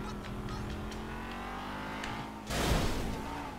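A car engine in GTA V hums and revs steadily, then surges into a louder, rougher acceleration for the final second with a harsh burst of noise.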